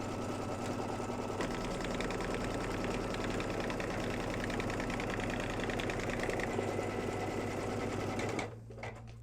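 An embroidery sewing machine stitches an in-the-hoop mug rug, a loud, steady rapid needle chatter running continuously for about eight seconds before stopping abruptly, with the motor hum fading out at the end.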